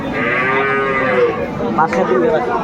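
A young calf, only days old, moos loudly and close at a livestock market in Dinajpur, one drawn-out bellowing call lasting the whole moment, with faint crowd noise behind.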